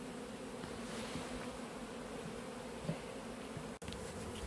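Honey bees fill the air around a hive box set up to catch a swarm cut out of a cupboard, their steady buzzing hum continuous and fairly soft, with no voices.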